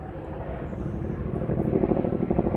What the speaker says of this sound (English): you can hear, that, there's a helicopter over there